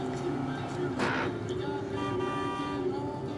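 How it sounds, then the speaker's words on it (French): A short car horn toot blares once from a car behind, loud and close, over engine and road noise with a voice speaking. "Accélère, ça klaxonne derrière."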